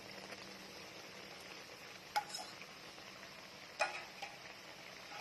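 Minced pork and pork filling stir-fry in a pan, a faint steady sizzle with a spatula scraping and two sharper clinks against the metal, no voices.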